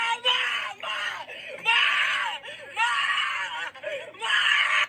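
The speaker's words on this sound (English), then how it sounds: "who can be heard screaming for her life" A 16-year-old girl screams in recorded footage of an arrest by an agent, with four long, loud, anguished screams separated by short breaks for breath.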